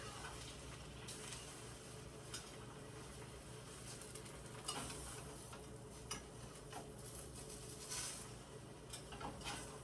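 An egg cooking in a pan on a stove turned down a little; a faint, steady low sizzle goes on throughout, with scattered soft clicks and taps from the pan.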